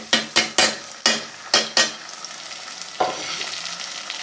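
Tomatoes frying with garlic-ginger paste in a pan for moong dal, with a run of sharp utensil knocks and scrapes at the start, then a softer sizzle and one more stir.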